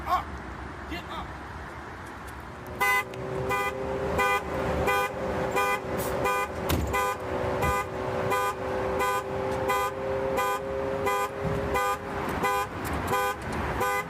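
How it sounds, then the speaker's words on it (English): A convertible Mustang's car alarm goes off in a parking lot, a loud pulsing tone that repeats in a steady rhythm from a few seconds in until the end. Faint voices are heard early on. "Alarm's going off."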